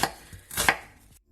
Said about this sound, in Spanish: Vamos a picar la cebolla.